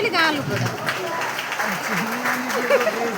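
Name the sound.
audience applause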